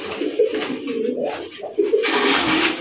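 Domestic Bangladeshi pigeons coo in a series of throaty, rolling calls close by, several overlapping bursts with short gaps between them and no voices.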